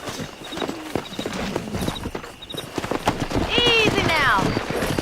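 Horses in the Red Dead Redemption video game: rhythmic clip-clop hooves close by, with a horse whinnying toward the end, under game dialogue voices.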